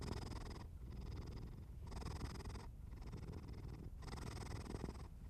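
A cat purrs softly and steadily in a quiet room, slow rhythmic cycles of low rumble with brief dips between breaths.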